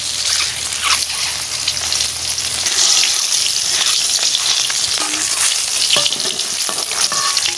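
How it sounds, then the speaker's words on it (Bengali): Eggs fry in hot oil in a pan, a steady loud sizzle and crackle with occasional stirring scrapes, running continuously without speech while biryani with prawns is being made. "ডিম ভাজা হয়ে গেছে"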